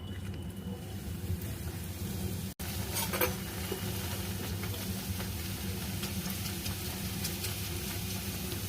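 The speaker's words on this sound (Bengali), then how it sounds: "এখানে তেলও গরম হয়ে গেছে। আমি এবার কচুরিগুলো ভেজে নেব।" Kachori deep-frying in hot oil in a wok, a steady dense sizzle and bubbling throughout, fairly quiet and even, with one brief break partway through and no talking.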